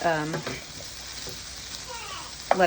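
Zucchini and other vegetables sauté in a pan with a steady, soft sizzle and occasional light stirring, ending in a louder scrape or clatter near the close; a voice is briefly heard at the start.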